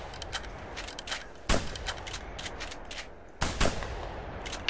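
Two sharp, loud gunshots in a duck hunting video game, spaced about two seconds apart over a steady outdoor ambience of wind and distant birds.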